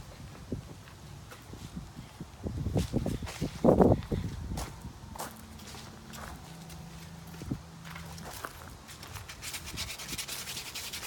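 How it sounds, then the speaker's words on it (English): Sandpaper rubbing on a part of an old flat-head Briggs and Stratton 5hp engine, giving short scratchy strokes in uneven bursts, fairly close, with some handling noises and a low hum later. "Hit that with a little bit of sandpaper."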